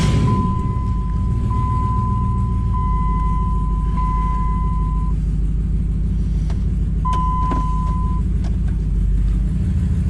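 A Dodge Ram 1500 pickup, with its ABS, brake and engine warning lights on, pulls away with a steady, loud low engine rumble. Intermittent electronic warning beeps sound over it.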